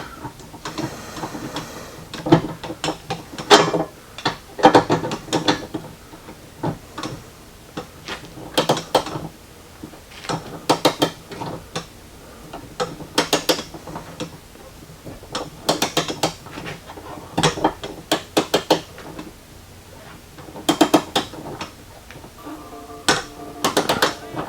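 Short-socket ratchet wrench turning bolts on a Subaru Forester trailer hitch, heard as repeated sharp metallic clicks and clanks in uneven bursts, close and fairly loud, with no talking.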